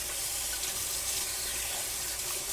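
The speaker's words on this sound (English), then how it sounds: "And rinse off my spoon" A steady hiss of running tap water in a kitchen sink as a spoon is rinsed, continuous and fairly close, with no talking.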